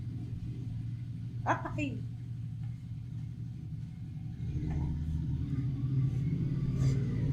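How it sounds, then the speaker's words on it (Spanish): A motorcycle engine idles and rumbles outside, a low steady drone that swells slightly as it pulls away, with a brief voice exclaiming over it. "No, sí es la moto."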